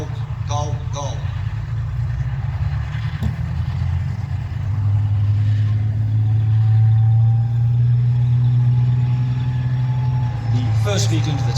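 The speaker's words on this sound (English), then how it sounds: "The first vehicle into the attack is the assaulting tanks." Assaulting tanks of the Royal Armoured Corps drive into the attack at a modern British display, a loud continuous engine rumble that swells midway and holds steady, with a voice talking over it.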